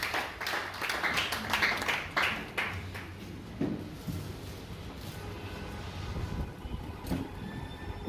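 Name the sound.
round of applause at award ceremony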